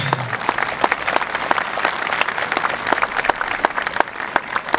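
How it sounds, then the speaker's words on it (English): Audience at a school commencement ceremony claps steadily, a dense, even wash of many hands close by, lasting the whole stretch with no talking. "I think they deserve applause for that."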